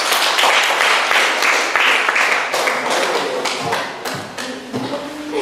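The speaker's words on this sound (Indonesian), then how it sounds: "Tepuk tangan untuk kita semua" Student groups clap together in a vocational high school classroom, a fairly close burst of crisp, uneven claps and taps that thins out toward the end.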